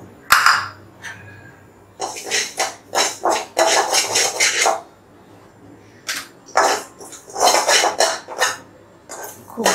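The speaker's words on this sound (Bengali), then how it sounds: "এখন আমি কালো জিরাগুলোকে টেলে নিব" Black cumin seeds dry-roast in a hot pot, with bursts of scraping and rattling as a spoon stirs them in repeated close, loud strokes separated by brief pauses.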